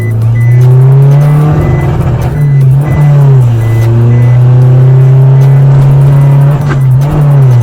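A remapped 2020 Isuzu 1.9 DDI Blue Power pickup accelerating hard with a loud, close, steady diesel drone whose pitch holds and wavers slightly across several seconds, without talk.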